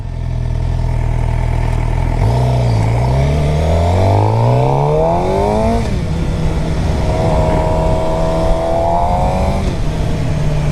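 Engine of a 2013 Suzuki GSX-R 750 sport bike revving hard through rising and falling pitch sweeps, loud and close, with no talking.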